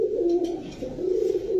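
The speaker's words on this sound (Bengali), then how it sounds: "কি কবুতর এগুলা ভাই?" Pigeons cooing at a pigeon seller's, a dense low throaty warble that rises and falls continuously from several nearby birds, with no talk.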